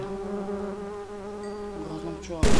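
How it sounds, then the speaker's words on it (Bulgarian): Steady buzzing of a bee in a monster-themed video game, a continuous drone that holds close and loud for the whole stretch before a sudden louder burst at the end. "Грозна пчела."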